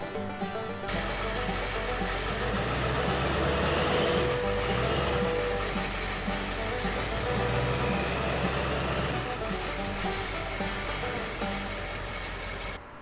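A heavy truck's engine rumbles steadily while flat-towing another truck, a deep, continuous drone that swells slightly around the middle and eases near the end, with no talk.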